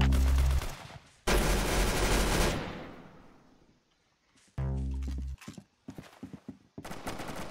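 A gun blasts in the Roblox shooter Arsenal with a few loud, sharp bursts separated by quiet gaps, then a quicker string of shorter shots near the end.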